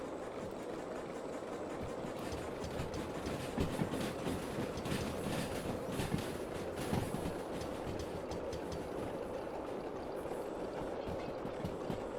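A train rumbles past steadily in the video game Derail Valley, a low, continuous rolling roar and faint rhythmic clatter, no voices over it.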